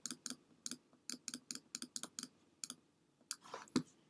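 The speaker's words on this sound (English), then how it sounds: "So I'm clicking a lot of times" A computer mouse clicks repeatedly while brush strokes are painted in Adobe Photoshop: close, crisp, quiet clicks in quick irregular bursts, with a slightly louder rustle and click near the end, no voices.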